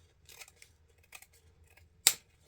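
Scissors snip through ribbon for a high-end light-up Christmas lantern wreath: faint rustling of the ribbon, then one crisp, close cut near the end.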